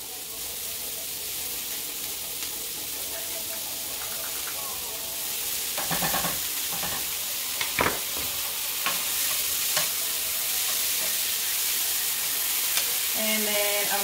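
Onion and garlic frying in a pan for a buttery lobster sauce, a steady soft sizzle and hiss with a few clattering stirs and scrapes partway through, moderately quiet and close.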